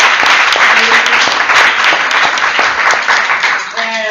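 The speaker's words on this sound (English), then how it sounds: "Let's give, of course, the Youth Coalition a big round of applause." An audience breaks into loud, dense applause, many hands clapping together, fading slightly at the end as a voice begins.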